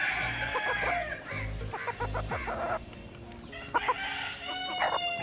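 A flock of ten to fifteen native country chickens, including naked-neck birds, crows and clucks nearby. A rooster's long crowing calls repeat over steady clucking and cackling.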